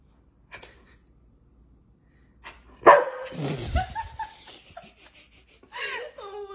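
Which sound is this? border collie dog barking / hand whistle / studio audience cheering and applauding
border collie dog barking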